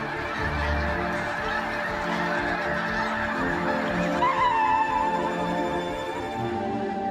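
A large flock of geese honking continuously, a dense overlapping chorus of calls filling the air, loud and steady throughout.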